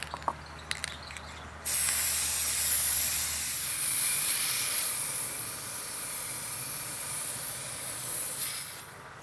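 PlastiKote spray paint hisses steadily from the can onto a Christmas wreath in one long continuous burst, close by, after a few light clicks and handling noises.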